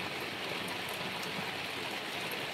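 Heavy rain falls in the dark at night, a dense, even hiss that holds steady with no pauses and no voices.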